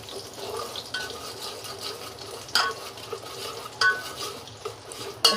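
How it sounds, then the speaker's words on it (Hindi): A spoon stirs mutton kofta curry in a pot, scraping and sloshing through the thick masala with several sharper clinks against the metal, close and moderately loud, with no talk. "अब इसको थोड़ा चला लूँ।"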